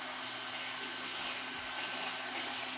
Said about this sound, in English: So we're going to start with vacuum and steam.